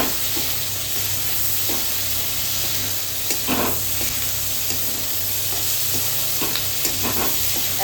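Capsicum stir-fries with egg and chicken chow mein in a hot pan, a loud continuous sizzle and hiss with occasional spatula scrapes and taps cutting through the steady frying.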